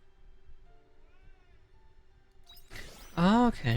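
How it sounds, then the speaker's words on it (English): A cat meows loudly and close by near the end, two drawn-out calls after a quiet stretch of faint background hum. "Also, if you hear meowing behind me, don't worry."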